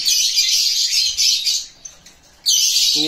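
Caged pet birds of the green wild type chirp loudly and continuously up close in a dense, high twittering chorus that briefly thins out before surging back.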